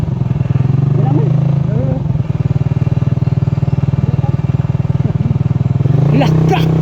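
A motorcycle rides through deep floodwater, its engine running loud and steady from start to finish, with people talking over it.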